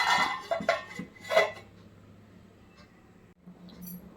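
Metal clinks and clatters as a lid is set onto a cooking pot, a few sharp knocks close together early on, followed by quieter handling and soft kitchen noise.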